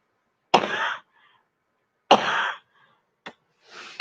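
Coughing from a tickle in the throat: two harsh, breathy coughs about a second and a half apart, close and loud in a quiet room, followed by a short catch and the start of another.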